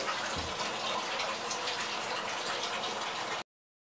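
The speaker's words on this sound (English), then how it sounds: "I gotta wash this stuff off my skin" Water runs steadily from a tap or shower as someone rinses a substance off their skin during bath time, a continuous close gush with a brief splash near the start and no talking, cutting off abruptly.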